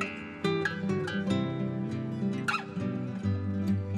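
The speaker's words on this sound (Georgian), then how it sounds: "A dog." A dog gives a few short barks and yips mixed with whimpering, heard close over a sustained musical background.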